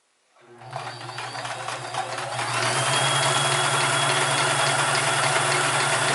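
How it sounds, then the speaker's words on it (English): A Sears Kenmore 158 series sewing machine stitches fabric back and forth, starting up and then running at a steady, loud, continuous whirring pace close to the listener, with no voices. "See how the machine works the fabric back and forth?"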